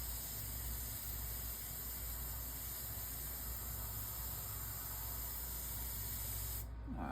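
A paint spray gun fitted with a defective tip sprays paint in a steady, unbroken hiss with a low hum beneath it, then cuts off abruptly just before the end.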